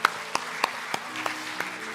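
A church congregation at a winter retreat applauds, heard as a quiet, sparse run of claps spaced a few tenths of a second apart, somewhat distant and unaccompanied by talk.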